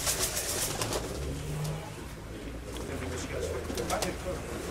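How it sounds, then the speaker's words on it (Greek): Racing pigeons arrive at the loft, soft cooing and bird calls mixed with faint flutters, heard fairly quietly under a busy outdoor background with some voices. "Έρχονται τα πουλιά από διάφορες κατευθύνσεις."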